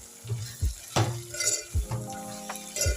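A spoon stirs a bitter gourd, green chilli and lemon pickle in a pan, giving a few distinct scraping strokes and soft clinks against the metal over a faint background hum.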